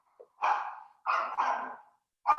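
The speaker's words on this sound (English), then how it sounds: "And someone's dog is excited about that, I hear." A dog barks in a house at a distance from the microphone, three or four sharp, moderately loud barks in an irregular rhythm, separated by silence.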